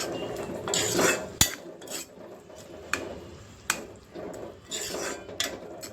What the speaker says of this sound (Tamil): இப்போ கொஞ்சம் கருவேப்பிலை சேர்த்துக்கலாம் நல்லா மிக்ஸ் பண்ணி விட்டுக்கிறோம்